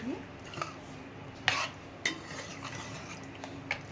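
Stirring green chicken dum biryani in a pot, with a utensil scraping and clinking against the metal in a few sharp knocks spread over a few seconds, close and fairly quiet, with no one talking.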